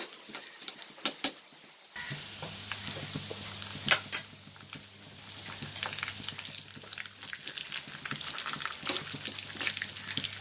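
Moong dal and almonds roast in ghee in a pan, a soft sizzle under repeated scraping and clinking stir strokes, with sharp knocks at the start, close and free of talk.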